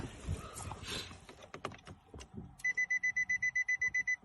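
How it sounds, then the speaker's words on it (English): A Nissan Rogue emits a steady run of about ten short, evenly spaced electronic beeps confirming key fob programming after some faint handling noises, loud and close. "That beeping tells us that the car successfully accepted the programming."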